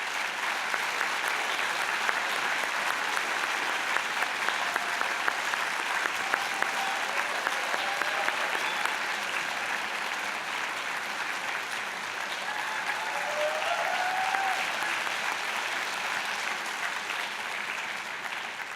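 A convocation audience gives a steady, sustained round of applause for a college band, dense clapping continuing evenly throughout at a moderate distance.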